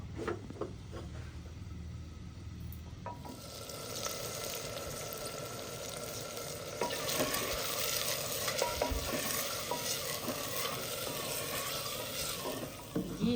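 Onions fry in ghee while being stirred. After a quieter start the sizzle rises into a steady, fairly soft crackle, with scraping strokes of a spoon throughout and no talk.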